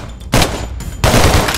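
A pistol in Minecraft fires two loud, close bursts of rapid shots separated by a short pause.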